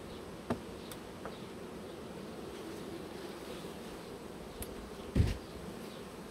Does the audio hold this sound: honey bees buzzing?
yes